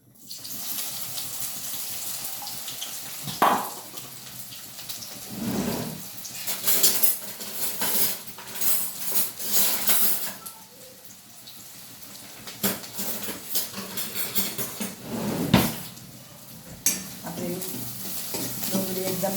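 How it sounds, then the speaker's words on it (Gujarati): Onion sautés in hot oil in a pan, a constant close sizzle broken by clanks and scrapes of stirring against the metal. "હવે આપણે પહેલાં ડુંગળી સાતરી લઈશું"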